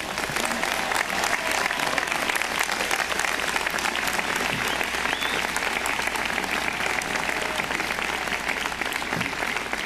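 Audience at a university commencement applauding to welcome speaker Steve Jobs, a sustained loud wash of clapping from a large crowd that holds steady throughout.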